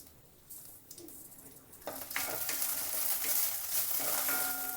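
Raw tomato chutney ingredients fry in a hot pan, starting as a quiet sizzle and jumping to a loud, bright crackle as more goes in, with a few scraping stirs over the steady frying.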